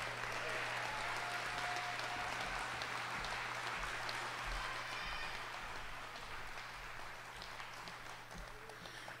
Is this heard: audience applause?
yes